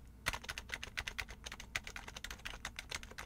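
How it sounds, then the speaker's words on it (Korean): Typing on a Happy Hacking Keyboard Type-S, a quiet Topre electrostatic capacitive board, with a quick, even run of soft, muted keystrokes heard close and alone. "제 거는 해피해킹 중에서도 타입 S라고 해서 더 소리가 적은 녀석입니다"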